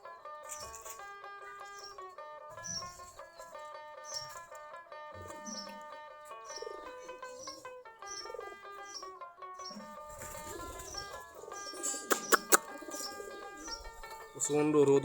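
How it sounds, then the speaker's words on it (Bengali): Native Giribaz pigeons coo softly in a loft of thirty to forty pairs, with low, repeated coos and a few wing flaps under steady background music. "সবগুলা দেশি গিরিবাজ কবুতর।"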